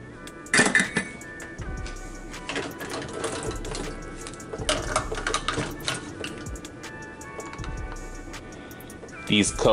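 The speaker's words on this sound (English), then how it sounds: "I set these glass cups carefully because I don't want to break them." Glass cups clink against one another and a hard surface as they are set down and put away in a drawer, with scattered sharp clinks and small clatters at close range, with faint talk in the room.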